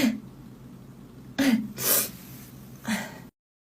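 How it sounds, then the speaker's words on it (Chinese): A young Chinese woman sneezes at home, three short sharp bursts spaced about a second apart, close to the microphone over a quiet room. "我打了多少个喷嚏？"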